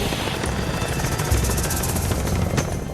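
A giant military helicopter circling low and coming in close over rocky ground, its heavy rotor thump and engine roar loud and steady throughout, with no voices.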